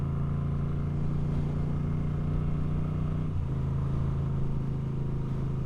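A Moto Guzzi V7 III Rough motorcycle rides along, its engine holding a steady, loud drone with a brief shift in pitch partway through, alone without talk.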